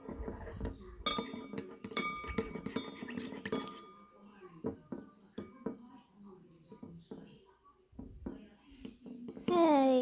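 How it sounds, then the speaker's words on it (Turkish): A spoon stirring a toothpaste mixture in a glass, with bright rapid clinks and scrapes for several seconds, then sparser taps, while someone talks nearby. "Şimdi karıştırıyorum."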